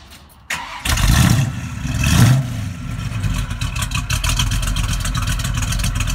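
A classic car engine cranks and catches, revs up loudly twice, then settles into a steady throbbing idle, close and alone without talk.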